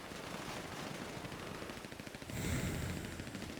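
Rapid bursts of gunfire crackle in a combat setting, a run of quick shots at moderate distance followed by a louder, denser burst near the end, with no speech.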